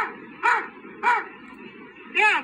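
Three evenly spaced, yelping dog barks, each short and bright, ring out on a scratchy 1923 comedy phonograph record where a dog is asked to count.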